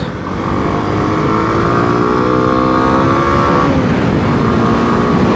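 A Kawasaki D-Tracker 250cc motorcycle on a test ride runs loud and close, its engine note climbing steadily through the gears with a steady wind-buffeted roar underneath, no voices over it.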